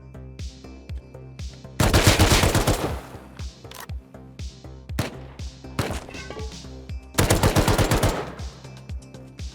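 Rust video game gunfire: two dense bursts of rapid automatic shots stand out against scattered single sharp cracks, loud and close, with no voices.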